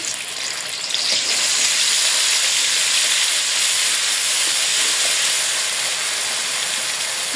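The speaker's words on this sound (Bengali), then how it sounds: "এই তেলেই রান্নার জন্য আর একটু তেল দিয়ে দেবো প্রথমে দিয়ে দেবো এখানে পেঁয়াজ রসুন আদা বাটা" Onion, garlic and ginger paste fries in hot oil, making a loud, steady, close sizzling hiss that runs unbroken through the whole clip with no voices.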